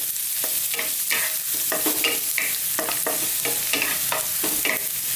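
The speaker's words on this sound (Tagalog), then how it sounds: "A-add na po natin yung ating bawang or garlic." Garlic fries in rendered pork sausage fat, with a steady sizzle and rhythmic stirring scrapes of a utensil against the pan repeating about twice a second, close up and without speech.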